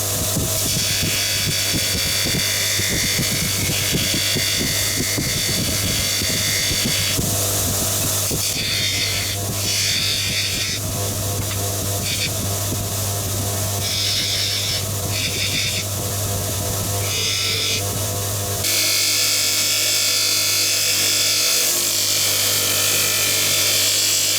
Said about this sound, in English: let's go over the Scotch-Brite wheel